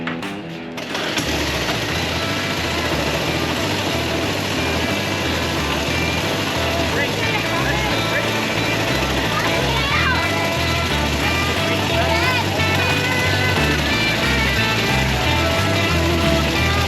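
A small restored childhood go-kart engine catches after forty years idle and runs with a buzzy, steady high-revving drone. People, including a child, talk over it.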